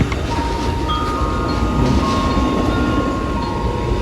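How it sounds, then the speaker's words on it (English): CSX freight train rolling past on the railway, a loud continuous rumble of wagons with faint wheel squeal tones and steady clatter, nothing else heard. "This one, we're going to have to watch the whole train here."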